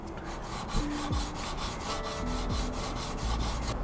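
A used Scandi-ground knife has its bevel re-profiled, giving a close, continuous scraping rasp with repeated rhythmic strokes of metal against an abrasive surface.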